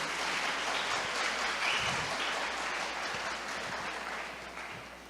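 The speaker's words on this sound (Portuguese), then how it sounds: "Vamos aplaudir o Senhor." A church congregation applauds, a steady wash of clapping at moderate distance that gradually fades toward the end.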